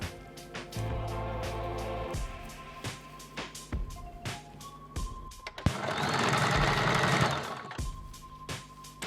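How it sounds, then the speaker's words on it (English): A sewing machine stitches elastic ends together for a satin scrunchie, running in short, whirring bursts separated by pauses, with one longer, louder run toward the end. "I prefer to sew the elastic together because it's a lot less bulky"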